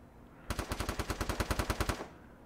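Rapid automatic gunfire in Counter-Strike during a ranked match, a single sustained burst of about fifteen evenly spaced sharp shots lasting roughly a second and a half, loud and close.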